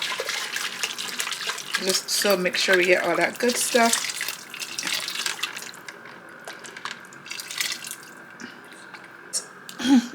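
Liquid is poured into a saucepan of birria with a splashing trickle that runs under a person talking, then thins to faint drips and the quiet hiss of running liquid.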